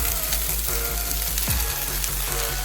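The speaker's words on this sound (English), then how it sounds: "And here comes our parboiled rice. We'll add it in." Parboiled rice tips into a pot of hot suya jollof sauce, which sizzles and fries steadily up close, with a few soft scraping stirs and a brief thump as the grains go in.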